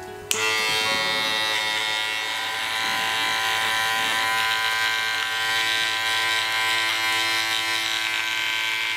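Electric hair clippers taper the back of a man's hair in a barbershop, a loud steady motor buzz that switches on at once and runs continuously near the microphone.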